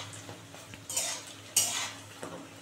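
Fried paneer pieces are lifted out of a pan, with a few sharp metallic scrapes and clinks of a utensil against the pan over a faint background hiss, close and without talk.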